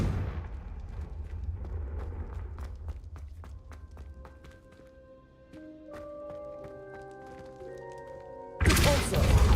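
Spells fired and landing in Hogwarts Legacy gameplay: a run of sharp thumps and bursts, then ringing tonal magical tones layered over each other, ending in a loud broadband blast.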